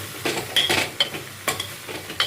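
Sliced okra goes into hot oil for an Andhra-style tamarind curry: a crackling sizzle broken by several sharp scrapes and clinks of a spoon stirring against the pan, close and fairly loud.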